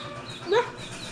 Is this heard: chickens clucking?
yes